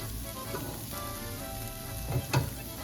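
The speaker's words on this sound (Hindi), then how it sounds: "ये हमने चिकन डाल दी। तो ये जो है उसकी थोड़ी सी इस तरह भुनाई करेंगे।" Chicken pieces sauté with garlic in a little oil in a pan, giving a soft, steady sizzle, with a couple of brief stirring scrapes toward the end and no talking.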